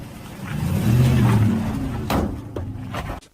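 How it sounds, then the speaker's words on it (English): A truck revs and accelerates hard, a rising engine roar that swells loudly then eases off before cutting out abruptly, with no voices. "he came like this and then pointed straight and hit the gas"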